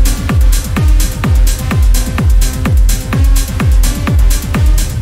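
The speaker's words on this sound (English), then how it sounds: "the second will be the rumble low end of techno tracks" Main room techno rumble bass: a loud, deep booming low end pulsing with a steady four-on-the-floor kick, each thump trailing into a rolling bass tail, repeating evenly without any voice.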